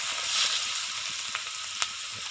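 Onions fry in hot oil with turmeric, producing a steady, hissing sizzle close by. A couple of brief clicks come from the pan, and nobody speaks.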